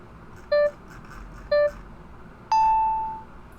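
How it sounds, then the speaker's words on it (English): A drawing app sounds two short identical beeps about a second apart, then a longer ringing ding that slowly fades, clear and close over a quiet background. "It keeps beeping even when I'm not doing stuff"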